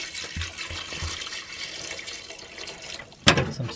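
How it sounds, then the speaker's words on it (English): Spring water poured over split peas in a pot for vegetarian split pea soup: a steady, close splashing stream with no talk, ending in a brief louder splash. "Get some spring water here."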